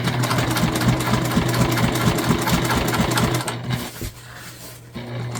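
Sewing machine stitching thick canvas for a tote bag, a fast even run of needle strokes with a steady motor hum that stops near the end, then a brief restart.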